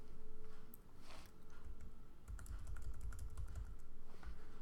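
Fingers type on a computer keyboard with quick, irregular clicks at close range, pausing briefly before another burst of keystrokes.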